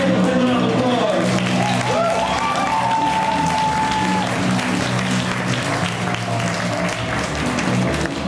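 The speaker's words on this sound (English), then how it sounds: "Please give him a round of applause." Audience applause swelling for the next speaker at a live event, steady dense clapping sustained throughout with crowd noise and some voices mixed in.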